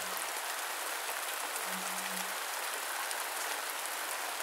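Steady rain falls evenly and continuously as a dense, hissing patter, with a faint low tone drifting in briefly partway through and no voices.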